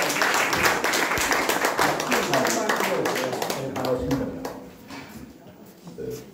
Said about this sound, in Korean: 이제 큰 박수로 환영해 주십시오.